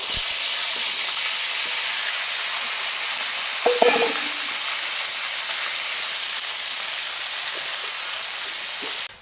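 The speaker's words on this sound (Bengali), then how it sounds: "মাছ ভাজাই তেলেই আমি ওলগুলো আবার ভেজে নেবো সব।" Elephant foot yam pieces frying in oil left from frying fish, a steady moderate sizzle with a short clatter of stirring partway through, close and without talk.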